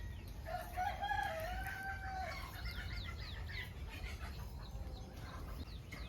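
On a farm, a rooster crows in the distance with hens clucking around it, fairly faint against a steady outdoor background, other birds chirping briefly.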